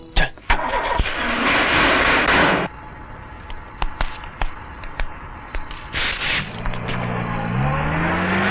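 A car engine cranks and catches with a loud burst, runs briefly, then drops to a lower idle as it is moved into a garage, with sharp clunks and short thumps around it and faint voices near the end.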